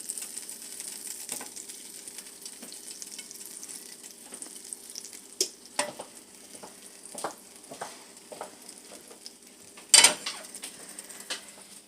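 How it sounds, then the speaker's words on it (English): Mushroom, celery and garlic sauté in butter in a pan: a quiet, steady sizzle is broken by scattered utensil scrapes and taps, with one sharper clatter near the end. "I'm going to saute it with mushroom, celery, and garlic."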